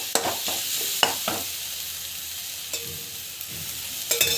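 Chilli powder and other ingredients sauté in a pan, a soft continuous sizzle with a few sharp spoon clinks and scraping stirs, near and alone without voices.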